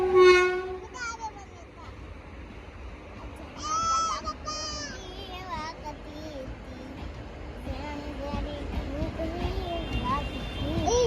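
A train at a railway station in Keshod, a steady low rumble of rolling wagons with squealing, whining tones rising and falling over it, heard under nearby talking voices.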